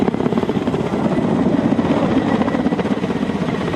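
A Soviet Ka-27 ship-based helicopter roars loudly and steadily with a dense, throbbing rotor chop filling the whole stretch, close and continuous with no voices.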